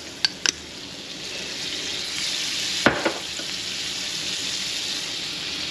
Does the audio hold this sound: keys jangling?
no